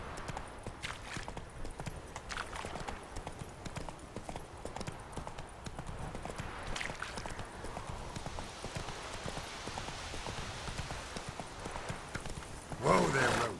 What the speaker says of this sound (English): We should certainly gallop away from it.